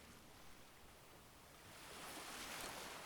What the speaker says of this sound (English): computer, increase the sounds of the sea